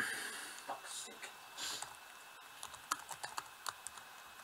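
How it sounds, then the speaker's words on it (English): Fingers type on a computer keyboard in quick irregular bursts of soft clicks, fairly quiet, with a person's voice faintly heard alongside. "you're typing the code in now."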